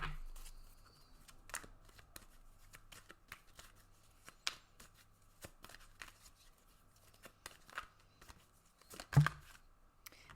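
Tarot cards shuffled by hand at close range, with soft, uneven riffling and patting bursts and a sharper snap near the end, quiet and alone with no talk.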